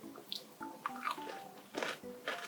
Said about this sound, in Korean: 겉면에 이렇게 큰 설탕 알갱이가 붙어있어서 아작아작 씹히는 식감이 좋은 그런 쿠키입니다